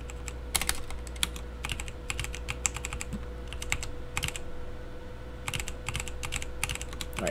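Rapid, uneven bursts of keystrokes clatter on a computer keyboard while configuring Neovim, close and crisp, with short pauses between flurries of typing.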